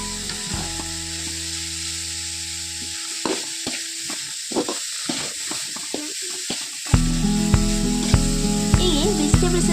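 Carrots stirred in a frying pan for egg noodles, a soft sizzle under scattered scraping stirs, followed by a louder stretch of frying with steady hiss.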